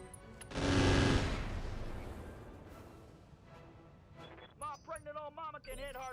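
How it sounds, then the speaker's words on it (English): Rapid machine-gun fire in the mech combat game Roguetech, a loud sustained burst early on that gradually fades into background rumble, followed by someone speaking near the end. "let's crank up the machine guns"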